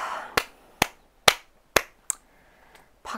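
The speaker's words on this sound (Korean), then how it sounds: "박수를 안 칠 수가 없어요" A single person claps hands six times in a slow, evenly spaced rhythm. The claps are sharp and close, and quiet gaps fall between them.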